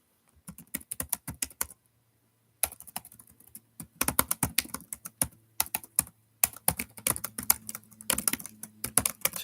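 Close, clear clacking of computer keyboard keys comes in quick bursts with short pauses, the typing steady and unhurried.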